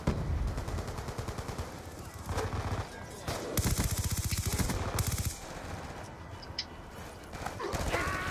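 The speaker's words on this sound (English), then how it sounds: "Oh, sniper taking me out." Rapid bursts of video game gunfire crackle in quick, repeated volleys, loud and close, with short pauses between strings of shots and a brief spoken remark.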